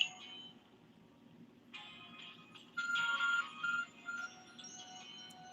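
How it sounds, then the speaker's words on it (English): An Arc Phone device beeping in the game Pokémon Legends: Arceus, heard as a few short bright tonal chimes that swell midway through, with no talking. "Your arc phone is beeping."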